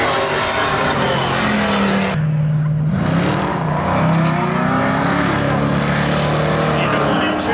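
Spectator drag racing cars at Seekonk Speedway roar loudly, one engine pulling hard and climbing in pitch as it passes, with other engines rising behind it. A race announcer talks over the noise.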